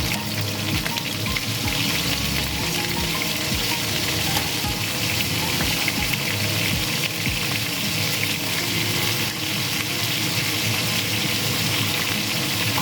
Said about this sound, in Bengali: পটলগুলো কিন্তু আমি বেশি ভাজবো না, অল্প লালচে করে ভেজে নেব।